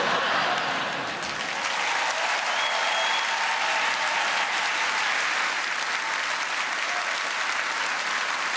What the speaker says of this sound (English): It's a pretty tasteless round of applause, if I'm being honest with you.